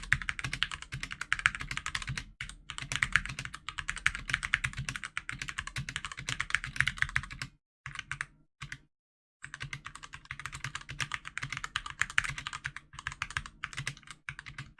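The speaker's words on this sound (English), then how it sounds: "from the actual typing experience of the switches, I really like these switches so far. It sounds nice" Rapid typing on a Glorious GMMK TKL modular mechanical keyboard, a steady patter of close keystrokes with a couple of short pauses and no voices.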